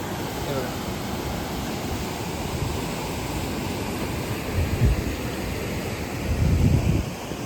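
Water rushing across a river crossing near a village, a steady broad wash of flowing water that holds constant throughout, with brief low rumbles near the end.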